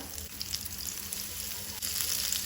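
Stuffed squid with prawns, Goan style, frying in hot oil in a pan, giving a steady close hiss with small crackling pops throughout and no talking.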